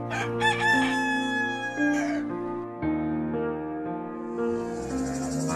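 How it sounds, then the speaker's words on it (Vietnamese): A rooster crows loudly, a long drawn-out cock-a-doodle-doo, over a sustained musical backdrop with insect-like chirping near the end. "nghe gà gáy dồn"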